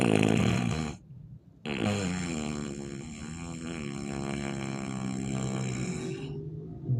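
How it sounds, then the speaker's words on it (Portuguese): A drunk man asleep in a car at night snores loudly, in long rasping throaty drones broken by one short pause before the next snore. "eu só quero que vocês escutem o ronco do indivíduo"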